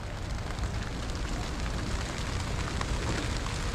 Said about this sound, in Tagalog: So sakto, umuulan. Maambon.